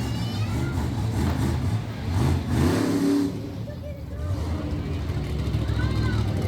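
A Lumberjack monster truck revs its engine at a Middletown, NY event, a loud continuous low roar with a swell of throttle midway, with crowd and commentary noise blended underneath.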